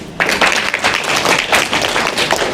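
A group of children and adults at a school storytelling session claps steadily for a child, the crowded applause loud and continuous with many overlapping hand claps.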